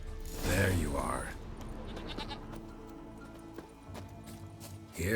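A goat bleats in The Witcher 3: Wild Hunt, loud and close near the start, then hoof clops and game ambience carry on beneath someone speaking.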